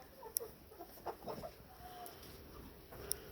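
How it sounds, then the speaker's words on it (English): Young chickens kept in a garage cluck softly a few times, with brief faint chirps and a couple of sharp peeps spread over a quiet background. "The chicks out in the garage are doing pretty good."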